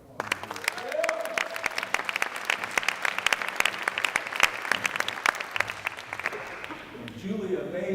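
An audience at a public education conference's opening plenary in Milwaukee breaks into applause, a dense, steady patter of many hands clapping for several seconds before fading near the end.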